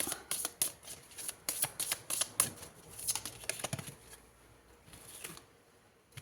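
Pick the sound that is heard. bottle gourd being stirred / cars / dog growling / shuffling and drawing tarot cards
shuffling and drawing tarot cards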